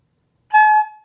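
A flute head joint blown on its own without the rest of the flute gives a short, breathy, pure whistle-like tone, starting after a moment of silence and tapering off.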